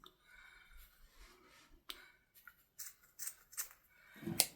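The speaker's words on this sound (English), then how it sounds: "Wrong pair of scissors." Scissors snip lace on a handmade Christmas tag, a string of crisp, close cuts. The cuts come sparse at first and then faster, ending on a louder snip.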